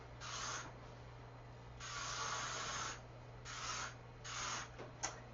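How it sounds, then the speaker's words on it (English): Texturizing hairspray from an aerosol can is sprayed onto hair indoors in four or five separate hissing bursts, close and fairly soft, the last one short. "now I'm going to spray it down with just some hairspray that she had in her bathroom"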